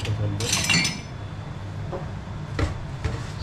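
A spoon clinks against a dish in a few light, bright taps, set over a steady low background hum with faint murmuring nearby.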